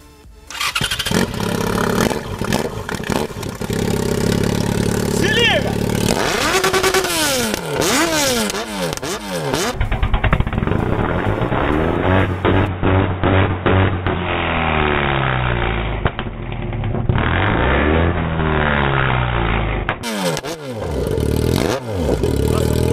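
A Yamaha XJ6 motorcycle with a condom and two Amoebas stuffed in its exhaust starts and revs repeatedly, its loud engine rising and falling in close, continuous bursts throughout.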